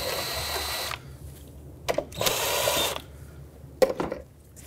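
A ratcheting tool loosens 8 mm hose clamps on the intake tube of a 2013-2020 Nissan Pathfinder 3.5L V6, heard close and faint as bursts of whirring buzz of about a second each, separated by quiet pauses and light clicks.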